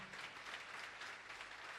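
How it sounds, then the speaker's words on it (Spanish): A congregation in a church applauds, a brief, faint and even wash of clapping heard from a distance. "Denle un fuerte aplauso al Señor."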